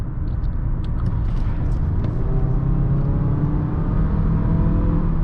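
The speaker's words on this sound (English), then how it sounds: "Transmission downshifts nice and quick" Steady low engine and road rumble inside a 2020 Mazda CX-5 SUV as it drives through corners with the transmission downshifting, a continuous droning hum with no talking.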